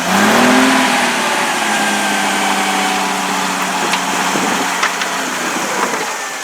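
A car engine revs hard and steadily while stuck in a muddy hole, a loud sustained drone with shifting pitch close by and a few faint knocks near the end.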